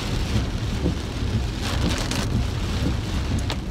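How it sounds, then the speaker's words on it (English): Heavy rain pouring down close by, a loud, dense, unbroken roar of drops hitting surfaces, with no talking. "It is really raining out here."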